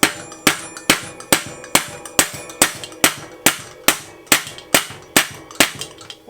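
Steady hammer blows knocking a headset cup on a GT Aggressor Pro bicycle, about fourteen sharp metallic strikes in an even rhythm, close and loud with ringing decay.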